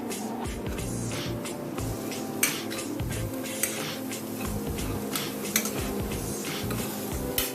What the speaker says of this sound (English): So mix this for about few minutes.